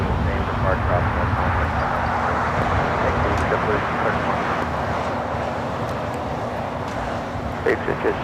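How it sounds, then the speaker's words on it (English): Asiana Airbus A380 jet taking off from runway 25 left at LAX, a steady broadband roar of engines mixed with wind and distant traffic, constant and loud throughout. "Asiana Heavy A380 Super taking off here on the south side on 25 left"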